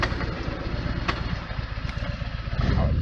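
Motorcycle engine pulling away and accelerating out of a junction into a bend on an advanced road ride, a steady close low-pitched drone with pulsing firing beats that rise toward the end, heard alone without talk.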